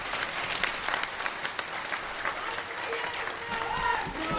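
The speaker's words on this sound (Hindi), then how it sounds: "इतनी बड़ी राशि के लिए तो जोरदार तालियां बजती हैं।" A rally audience at a political party workers' conference in rural Gwalior claps loudly, a continuous mass of crowd applause with voices mixed in beneath it.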